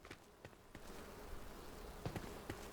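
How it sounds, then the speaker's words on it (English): Bees buzz faintly in the video game Enshrouded, a low steady drone punctuated by a few soft thuds and footstep-like taps. "There's another gaggle of bees around here somewhere."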